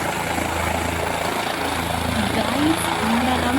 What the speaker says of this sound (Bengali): একটা হেলিকপ্টার পাশ থেকে আসছে